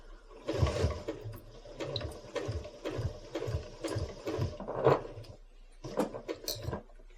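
A sewing machine stitching binding onto a quilt runs in steady rapid mechanical chatter, pausing briefly near the end before resuming, close and clear with no voices.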